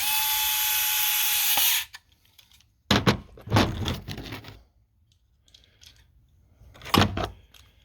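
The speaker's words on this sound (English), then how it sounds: "watch me put in screws. So 3 screws on the bottom stringer" A power drill drives screws into a furniture dovetail and bottom stringer, with a loud continuous whir up front followed by short gritty bursts of drilling and knocks, separated by quiet gaps.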